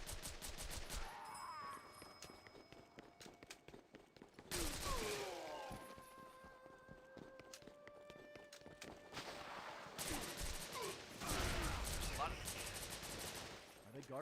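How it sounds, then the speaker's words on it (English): Gunfire in the video game Devil's Third, with bursts of rapid shots in loud clusters alongside tonal game sounds and music, some talk faintly underneath. "There's someone shooting."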